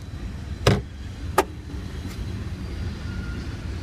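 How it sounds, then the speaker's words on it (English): A rear seat folds down inside a 2014 Honda CR-V AWD EX. Two short clunks come about a second apart, with a fainter click after them, over the quiet hush of the cabin. "all I have to do is pull on the lever here, and the back seat will fold down."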